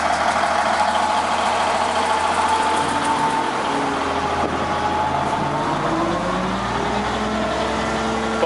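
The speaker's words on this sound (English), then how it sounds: "Cummins engine" The Cummins diesel engine of a Nelson 400 wheel loader idles steadily up close, a low, even rumble with a slight shift in pitch partway through and no voices.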